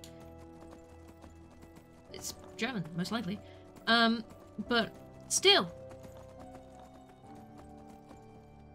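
Clip-clop hoofbeats of a donkey mount in the video game Enderal, a steady, close clopping under continuous talk, with a few short louder accents in the middle.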